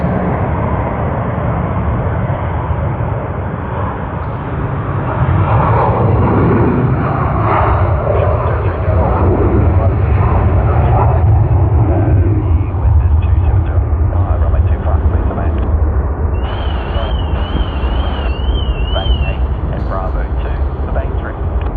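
Garuda Indonesia airliner, flight GA713 from Sydney to Jakarta, at Sydney Airport: a loud, sustained broadband jet roar that swells in the middle and holds steady, with a voice talking over it.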